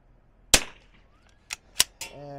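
Zermatt Rim-X airsoft rifle fitted with a DPX bolt firing four sharp, close shots, one then three in quick succession, with a faint tonal ring after the last.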